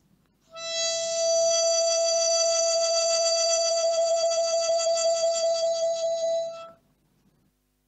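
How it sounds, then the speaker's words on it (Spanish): A harmonica holds a single sustained note for about six seconds, with hand vibrato adding a wavering pulse that grows more rhythmic toward the end, played close and alone. "Y si le hago el vibrato de mano, suena así."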